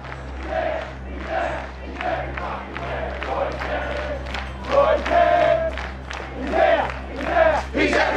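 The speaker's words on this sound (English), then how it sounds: "the crowd serenades Roy Kent with a song that's echoed through the Premier League for more than a decade" A large football crowd in a Premier League stadium chants a song in unison, a loud rhythmic roar of many voices rising and falling in repeated phrases, with some claps.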